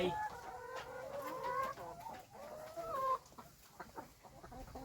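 Startled chickens cluck and squawk in agitated, overlapping bursts at close range. The calls are loudest at the start and settle into scattered cackles.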